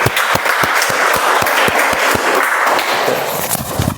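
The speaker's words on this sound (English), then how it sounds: "Let's give a huge round of applause for Ankita." An audience at a club meeting breaks into steady applause, distinct individual claps ringing out in a quick even rhythm over a dense wash of many hands, with no talking.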